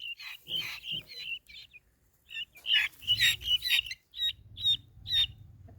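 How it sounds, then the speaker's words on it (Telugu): Freshly bought chickens cluck and squawk in short, loud bursts, close by, with brief pauses between calls and no talking. "కోళ్ళు తెచ్చినాం."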